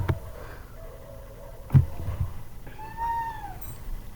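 Cat in a room meowing twice amid faint background noise during a game scene, one short mew early and a longer rising-falling meow near the end, with a thump in between.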